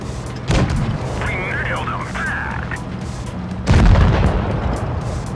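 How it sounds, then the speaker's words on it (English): Tank cannon fire in a tank video game. Two heavy booming shots land a few seconds apart over a low engine rumble, with a brief whine of game effects between them. "we put a tracking shot into the M6, and then we damage his side"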